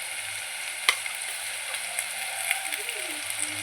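Ginger-garlic paste sizzling in hot oil for a fish curry, a soft, steady hiss with a few small pops and a faint voice in the background.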